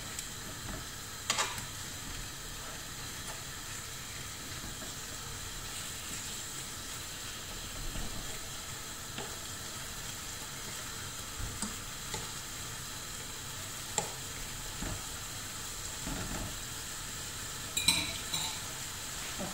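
Fresh pancetta sizzles and fries quietly in a pan, a steady soft crackle with occasional clicks of a utensil stirring, heard up close with no talking.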